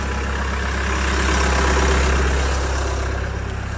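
A Bobcat L95 loader engine idles steadily while warming up in cold weather, a loud, constant low diesel rumble with no change in pace and no talk over it.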